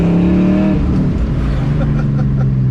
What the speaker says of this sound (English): I am in the middle of driving